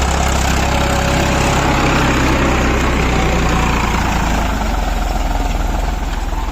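A tractor engine idles steadily with a fitted lift control, a loud, continuous low rumble with a constant throb, close by and alone without talk.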